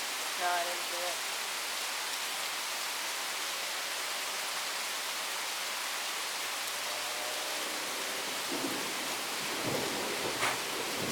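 A thunderstorm in Charlotte, North Carolina, with steady hissing rain throughout and distant thunder rumbling low near the start and again toward the end.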